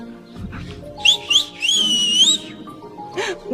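A person whistles a few short rising notes, then a longer wavering whistle, with a brief chirp near the end. Low background rumble and noise sit underneath.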